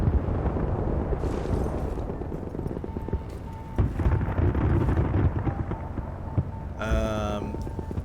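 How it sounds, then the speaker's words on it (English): Battlefield 1943 gameplay, heard as dense, booming gunfire and explosions that roll on continuously, with a brief whistling tonal effect near the end and a voice talking over the action. "Someone's shooting from across there."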